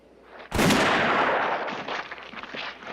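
A single sharp, loud gunshot in the 1966 western film The Good, the Bad and the Ugly cracks out at close range and then rings off in a long, fading echo.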